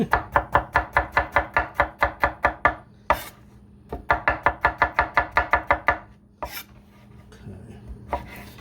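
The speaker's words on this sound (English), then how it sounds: "I have a tendency of taking off all the ends to my garlic." A knife chops garlic cloves on a board in quick, sharp, even strokes. Two fast runs of about a dozen close, crisp taps each are split by brief scraping sounds, with a lighter scrape at the end.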